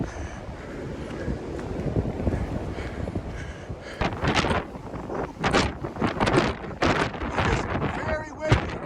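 Strong wind gusts buffet the microphone on the rocky Stony Man mountain trail in Shenandoah National Park, rumbling in uneven surges that grow louder and choppier partway through, with voices faintly underneath.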